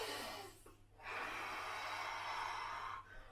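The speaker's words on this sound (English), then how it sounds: "Deep breath." A single deep breath drawn in during a kids' winter-sports workout, heard close as a long, airy inhale with a breathy exhale at the start, alone without talk.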